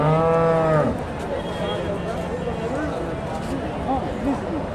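A Friesian heifer gives one loud, drawn-out moo close by at a busy cattle market in northern Bengal, then fades into a steady hubbub of crowd noise and distant chatter.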